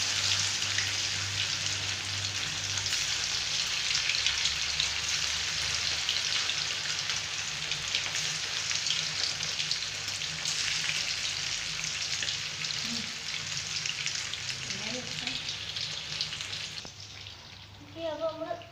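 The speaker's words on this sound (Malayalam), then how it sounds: "അപ്പോൾ നമ്മൾ എല്ലാ ചിക്കൻ നല്ല എണ്ണയിൽ നല്ലോണം പൊരിച്ചുകൊണ്ടിരിക്കുകയാണ്" Marinated chicken pieces frying in hot oil give a steady, loud, dense sizzle that runs unbroken throughout, with a few brief clinks near the end as it fades slightly.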